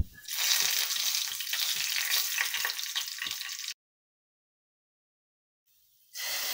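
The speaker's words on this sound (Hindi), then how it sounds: "चॉप ले लिया लहसुन और थोड़े से ऑयल के साथ जो है ना इसको फ्राई कर लूँगी।" Chopped garlic frying in a little oil for a dal tadka, a bright, steady close sizzle with faint stirring taps that cuts to silence partway and then resumes.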